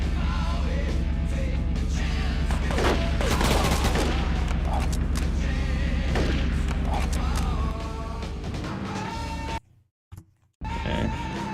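Missiles explode and guns fire nonstop in the vehicle combat game Roadkill, loud dense bursts and booms with a voice under them, cutting out briefly near the end.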